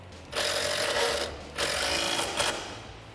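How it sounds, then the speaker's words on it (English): A wrench and socket tighten the nut and bolt on a rear control arm of a 1979-2004 Mustang, fitted with an SR Performance kit. Two close, rapid ratcheting bursts, each about a second long, are separated by a short pause. "grab a 19 wrench for the nut and an 18 socket for the bolt head and tighten them down"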